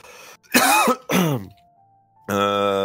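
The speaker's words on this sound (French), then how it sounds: "J'ai toussé." Two harsh coughs close to the microphone, then a faint steady tone, followed by a sustained low hum.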